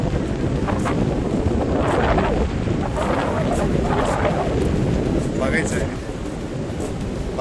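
Strong wind and sea surf at Diveagar beach on the Arabian Sea coast, a loud, constant roaring rush of wind buffeting the microphone, with waves washing underneath and a voice faintly mixed in.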